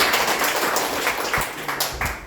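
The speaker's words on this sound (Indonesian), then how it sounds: "Beri tepuk tangan dulu buat saudara." A church congregation at a Sunday service claps in a loud burst of applause, many hands clapping together close-up, fading slightly over two seconds.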